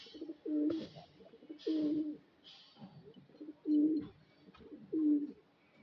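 A pigeon coos nearby in four or five soft, low, rounded calls spaced about a second apart, clear against a quiet background.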